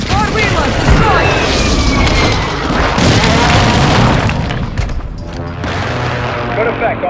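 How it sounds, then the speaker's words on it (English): Mortar strike explosions in Call of Duty: Warzone 2 on Ashika Island, a dense run of loud booms and crashing blasts with gunfire-like cracks layered over continuous battle noise. "Hostile mortar strike near your position."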